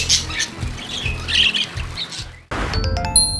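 A budgie, or parakeet, gives harsh, repeated squawks and then shifts to brighter, twittering chirps, close and fairly loud with no talking.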